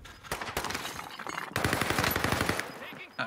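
Rapid automatic gunfire from the Warzone video game, several sharp bursts with a short break near the middle before a longer sustained stream of shots, loud and close.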